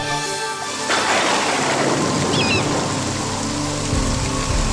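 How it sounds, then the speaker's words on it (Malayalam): Heavy rain pours down in a dense, steady roar, with a low rumble underneath. "പെട്ടെന്നു പേമാരി പെയ്തിറങ്ങി"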